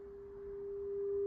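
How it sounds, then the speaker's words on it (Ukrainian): A steady 400 Hz sine test tone plays from a Sony TC-K677ES cassette deck, one pure unbroken pitch held at even loudness with no voices. "я знайшов навіть такий гарний сигнал синус 400 Гц"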